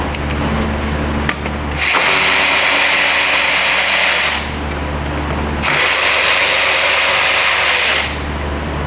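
Power tool with a 10 mm socket removing EGR pipe bolts on a 2017 Subaru Outback engine, two loud sustained bursts of buzzing spin separated by brief pauses.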